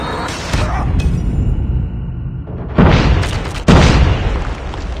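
A missile explosion in Call of Duty Mobile battle royale: a sustained rumbling blast, then two sharper, louder booming impacts close together near the end.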